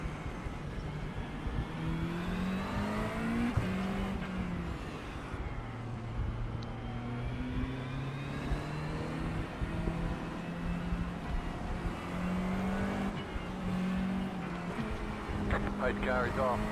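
A pack of GT3 race cars in iRacing accelerates off the start at Le Mans, with engine notes rising and shifting through gears as several cars rev together in a continuous, overlapping roar.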